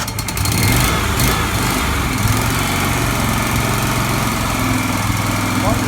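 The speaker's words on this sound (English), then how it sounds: "This should just start right up." Small gasoline engine on a wood chipper sputtering and catching after a pull start, then running steadily at a loud, close, droning idle for the rest of the clip.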